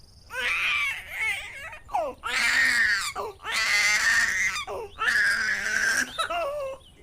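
An infant wails in loud, repeated bursts separated by short breaths, close by and rising in pitch at each cry.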